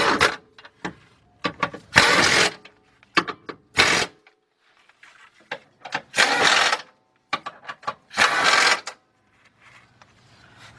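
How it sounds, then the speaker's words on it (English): Pneumatic air impact gun with a 14mm deep 1/2-inch drive socket tightening four bolts while replacing the starter on a 2007-2017 Lexus LS460: repeated loud rattling bursts, some short and some sustained, separated by quiet pauses and trigger clicks. "got my 14mm deep, 1/2" drive, deep socket with my air gun. Now we can tighten up the 4 bolts"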